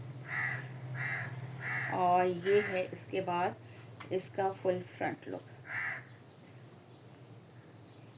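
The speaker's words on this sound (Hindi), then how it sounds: "हमारी मुंडेर पे ही आके कौवे ने बोलना है।" A crow caws repeatedly from a rooftop ledge, a few separated calls near the start and again later, while someone talks over it in between.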